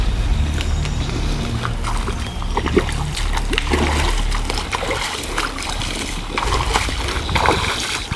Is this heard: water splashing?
yes